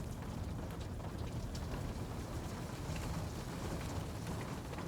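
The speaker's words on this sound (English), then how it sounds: "For a moment, only rain against the window remains." Steady rain patters against a window on a rainy evening, a dense, even wash of drops with no other sounds.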